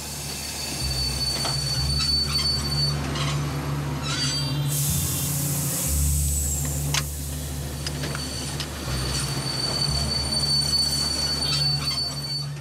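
Train wheels screech and squeal over a low rumbling engine drone, with metallic clanks and shifting tones as a train in the Congo gradually decelerates.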